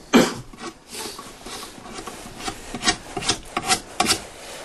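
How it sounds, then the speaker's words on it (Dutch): Fingernails scrape across a cabinet surface in a quick series of short, dry, raspy strokes, close and uneven in rhythm, with brief pauses between scratches. "Ik kan gewoon met mijn nagels... Het krast heel snel."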